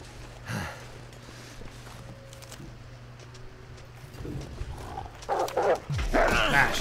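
Wolves from a pack in the survival video game The Long Dark bark and yip in short bursts over a low ambient drone, growing louder and closer toward the end.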